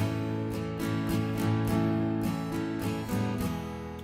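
Acoustic guitar strummed in a steady rhythm, chords ringing with crisp percussive strokes where the fingers lift off the strings; close and moderately loud, no voices.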